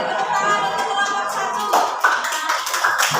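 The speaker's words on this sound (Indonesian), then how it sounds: "Tepuk tangan untuk kelompok" A classroom audience claps for a student group that has just finished its presentation, a dense, steady patter of many hands that carries on without a break and grows slightly livelier toward the end.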